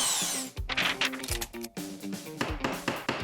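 Power tool driving in the last nail while building a wooden bunk bed, giving a few short whirring bursts broken by brief pauses.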